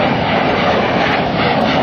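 An F/A-18F Super Hornet jet roars loudly and steadily during an air show demonstration in Hampton Roads, a broad sustained engine rush with no pauses.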